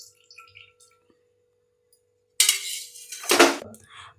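Two spoons of oil go into a hot kadai with a sudden sizzling rush after a quiet pause, followed by a clink of metal and a fading crackle.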